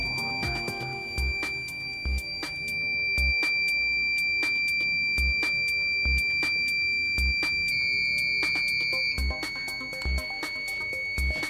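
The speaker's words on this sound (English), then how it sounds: "I'm going to simulate a low level alarm condition." A PROTEUS tank monitoring system sounds a low-level tank alarm: a sustained electronic high-pitched tone with repeated sharp clicks or beeps at a regular pulse throughout.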